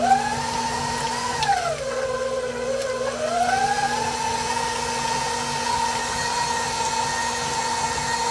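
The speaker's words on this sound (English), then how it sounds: "Going in, we're gonna beat it by a minute." An electric hand mixer on first gear beats butter for a pound cake, a steady close whirring motor whine that dips in pitch briefly as it loads, then settles back to a constant drone.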